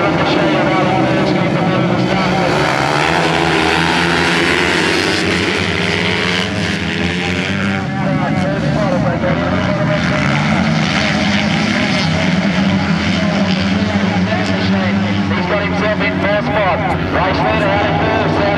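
Pro 250 racing motorcycles sweep around the track in a continuous loud engine drone that rises and falls in pitch as bikes pass, with a commentator talking excitedly over it throughout.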